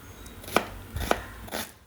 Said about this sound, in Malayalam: ഒരു 2 സവാള ചെറിയ പീസുകളായിട്ട് അരിഞ്ഞെടുക്കണം